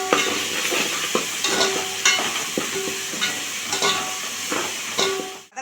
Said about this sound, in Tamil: வதங்கினோன்னே அடுப்பை சிம்மில் வச்சுட்டு இஞ்சி பூண்டு பேஸ்ட்டு ஒரு ஸ்பூன் போட்டுக்கோங்க